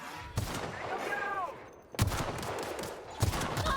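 Gunfire in the video game The Outer Worlds: a few sharp, separate shots with short pauses between them, alongside a voice and a brief tonal sound effect in the middle.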